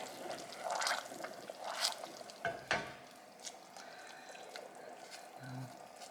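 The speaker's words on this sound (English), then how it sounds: "I'm going to show you what the bubbling looks like." Quiet, irregular bubbling and soft liquid pops from a demi-glace substitute sauce simmering in a pot, with faint stirring scrapes, no voices.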